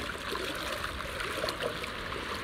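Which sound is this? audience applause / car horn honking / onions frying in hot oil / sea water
sea water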